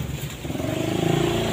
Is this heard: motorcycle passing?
yes